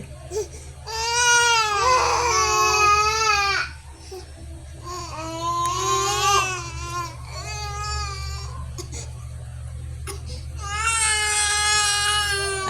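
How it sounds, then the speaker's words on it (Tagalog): A baby crying loudly and close, long wailing bursts with brief breaks for breath, whimpering between cries over a low steady hum. "Kuya, umiiyak siya."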